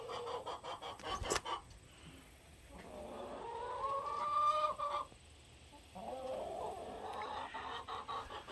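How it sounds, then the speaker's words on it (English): Backyard chicken clucking and squawking in agitated bursts right after being picked up, close and fairly loud, with short pauses between calls. "This is what happens when you pick up a chicken"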